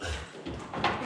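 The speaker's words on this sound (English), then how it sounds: "You're hitting the door." A bed being shifted and bumping into a door, with scraping and a few dull knocks and thuds close by, amid rustling movement.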